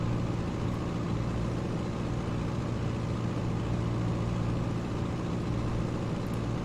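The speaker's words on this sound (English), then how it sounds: "Is that engine too loud?" A propeller aircraft engine in the Pro Pilot '99 flight simulator drones steadily and unbroken throughout, a low, constant hum on a flight from Meigs Field toward Chicago O'Hare, with no voices over it.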